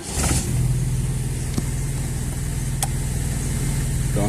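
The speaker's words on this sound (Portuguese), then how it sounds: "É muita moto passando hoje." Engines of passing traffic, apparently motorcycles, drone loudly and steadily on a nearby street, with a constant low hum and a couple of brief sharp clicks, and no talk.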